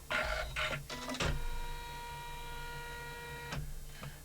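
An embroidery machine stitches a small wallet in the hoop, running with a steady mechanical whir and tonal hum, with a few clunks near the start and another partway through.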